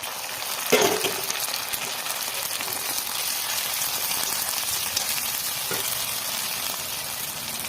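Onions frying in a pan give a steady hissing sizzle, close up, with a couple of louder clatters from stirring.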